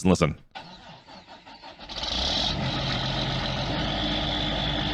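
A piece of farm equipment's engine with an aftermarket exhaust cranks and fires up, then settles into a deep, steady rumbling idle with a throaty exhaust note, heard up close after a brief voice.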